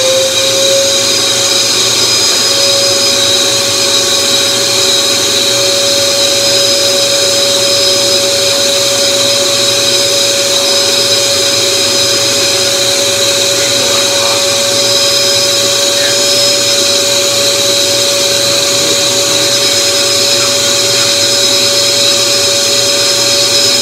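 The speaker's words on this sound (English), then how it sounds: "We're just going to stick the hose in there and vacuum everything out instead of compressed air" Shop vac sucks gunk out of the intake valves of a BMW N54 engine, a loud, steady whine with a strong sustained tone running unbroken for the whole stretch.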